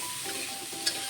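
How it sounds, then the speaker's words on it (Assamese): A wok sizzles steadily on the stove as ingredients fry for ghugni before ginger-garlic paste goes in, a soft even hiss with one small bright crackle, no talking. "এইখিনি অলপ টাইম ভাজি লওঁ"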